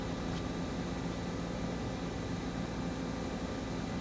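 A helicopter flies in the Arma II combat video game, giving a steady, muffled rotor-and-engine drone that holds evenly throughout at moderate loudness, with no talking over it.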